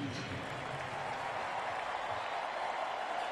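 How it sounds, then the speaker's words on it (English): Stadium crowd applauding Texas Longhorn legends from the first national championship at a 2013 college football game against New Mexico State, a broad steady wash of distant clapping and crowd noise lasting a few seconds. "please give a Texas-sized round of applause to these true Longhorn legends"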